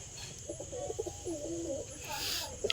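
Short-sized pigeons cooing inside a home pigeon coop, a soft, steady run of low murmuring coos close by, with faint background hiss and no talk.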